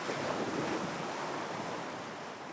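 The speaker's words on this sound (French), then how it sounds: "Les vagues continuent leur va-et-vient et vous bercent doucement." Sea waves wash steadily onto a beach, a broad continuous hiss of surf with some wind, fairly close and even, with no voices.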